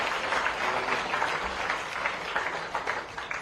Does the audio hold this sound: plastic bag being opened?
no